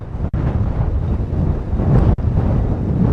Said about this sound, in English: Because it is super windy